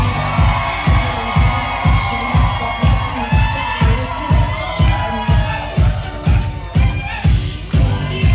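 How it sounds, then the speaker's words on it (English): Wedding guests at a reception cheer and whoop loudly as the maid of honor and best woman are introduced, a dense crowd roar over a pounding rhythmic music beat. "let's have a big round of applause for our maid of honor, Mary, and our best woman"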